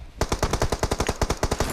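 Rapid automatic gunfire in the video game PUBG Mobile: a loud, close burst of about fifteen evenly spaced shots in under two seconds, with no voices.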